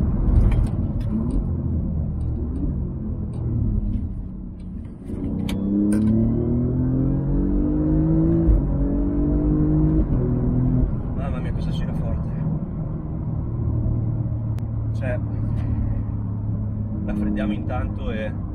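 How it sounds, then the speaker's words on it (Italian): An Alfa Romeo Giulia GTAm engine drones and rises in pitch as the car accelerates, heard from inside the cabin as a steady rumble beneath someone speaking excitedly. "Mamma mia, cosa gira forte questa macchina."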